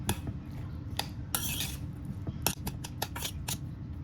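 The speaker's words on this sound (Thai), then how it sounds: "แล้วก็คลุกเคล้าให้เข้ากันให้สีของน้ำพริกกะปิกับข้าวเนี่ยมันโดนสม่ำเสมอกันดีนะคะ" Fried rice being tossed with shrimp paste chili in a pan, giving repeated scraping and clinking of a utensil against metal in irregular bursts, close and fairly loud over a steady background hiss, with no talking.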